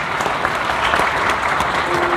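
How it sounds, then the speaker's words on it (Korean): Sustained, dense applause from an audience at the 15th Christian Culture Awards ceremony in Korea, congratulating an award winner. Steady and even throughout, with no talk over it. "다시 한번 축하 박수를 보내주시면 좋겠습니다"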